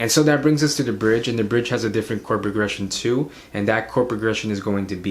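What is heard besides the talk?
No distinct noise like a dog, phone or traffic.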